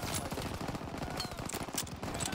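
Sustained enemy gunfire in the World War II shooter Call of Duty WW2, a dense, continuous rattle of rapid shots and battle noise at steady loudness throughout, close and overlapping.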